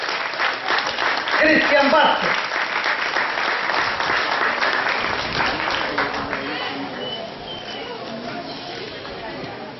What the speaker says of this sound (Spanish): ¡Fuerte los aplausos para